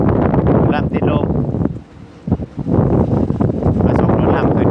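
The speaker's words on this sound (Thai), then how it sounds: "ลม" Gusts from a winter storm batter a house, coming as loud buffeting blasts of wind against the microphone with a brief lull midway, while voices seem to talk underneath.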